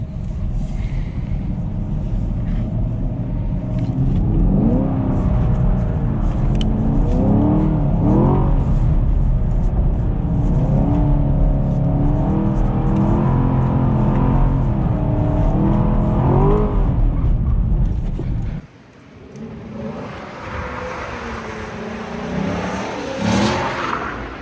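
A Camaro SS with a six-speed manual gearbox revs hard while drifting, the engine note rising and falling in sustained loud pulls for long stretches, then dropping abruptly to a quieter, rougher idle and light throttle blips.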